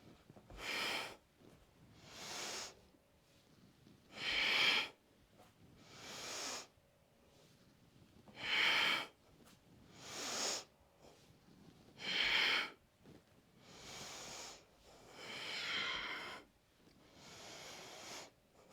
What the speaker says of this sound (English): So inhaling and now exhaling through the nose.